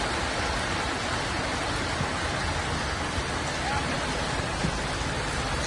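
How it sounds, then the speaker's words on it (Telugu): Heavy rain pours steadily near a Tamil Nadu temple, a dense continuous hiss with no breaks, loud and close throughout. "వర్షం ఫుల్ పడిందండి"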